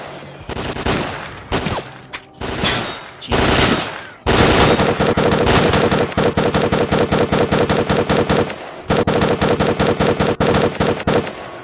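Automatic weapons rattle in the video game S.T.A.L.K.E.R.: Clear Sky, loud bursts of rapid gunfire with short gaps at first, then a long sustained stream of fast, evenly spaced shots.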